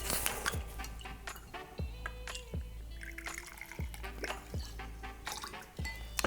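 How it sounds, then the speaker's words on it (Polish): Overproof rum and brandy being measured and poured for a cocktail, heard as quiet drips, small liquid trickles and light clinks in a calm setting. "Dodaję 30 ml zacnego rumu. W tym wypadku rum overproof 30 ml. I 15 ml brandy."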